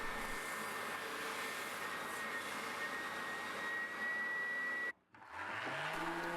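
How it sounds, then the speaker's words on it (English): Spindle sander running steadily on wooden cutlery tray pieces, a loud continuous whirring hum with a brief dropout near the end before the motor sound resumes. "Then I can take them to the spindle sander and get them all sanded at the same time."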